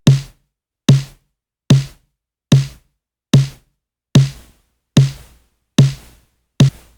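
A snare drum processed through a gated VHS-style plugin hits nine times in a steady, even rhythm, each loud crack followed by a short hissing noise tail that cuts off cleanly before the next stroke.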